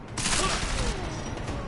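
A gunshot fires in Deus Ex: Mankind Divided, opening with a sharp crack that spreads into a dense, noisy burst. It stays loud for about a second before fading, with a voice partly underneath.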